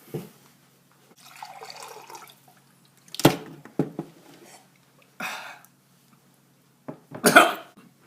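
A person drinks water close to the microphone: several separate gulps and swallows, each with a sharp onset, spaced by quiet pauses.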